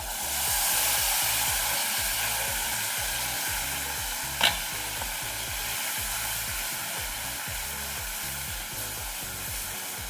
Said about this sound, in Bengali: টমেটোটা বেশ খানিক সময় আমি কষিয়ে নিয়েছি